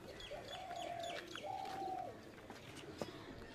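Pigeons coo softly nearby in a loft, two rolling calls in a row, followed by a quiet pause with faint rustling.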